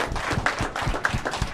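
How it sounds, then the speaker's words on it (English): An audience at a school event breaks into applause, a brief burst of dense, close clapping that carries on steadily to the end. "They deserve a round of applause for their organizational efforts."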